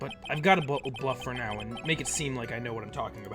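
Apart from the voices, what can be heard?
No distinct noise like a dog, phone or traffic.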